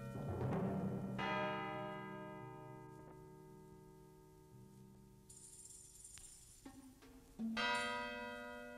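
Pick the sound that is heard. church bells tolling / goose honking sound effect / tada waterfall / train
church bells tolling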